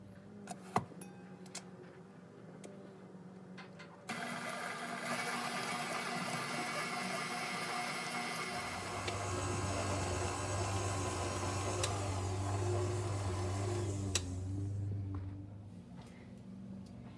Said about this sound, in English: So I'm going to take this over to the mixer and get started.